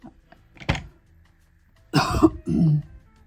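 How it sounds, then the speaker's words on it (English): Two or three rough, throaty coughs break a quiet room, close and abrupt, with short silences between them. "Sorry, I'm coughing to death."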